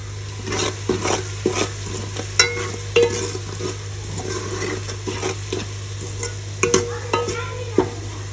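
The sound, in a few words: chilies frying and being stirred in a pan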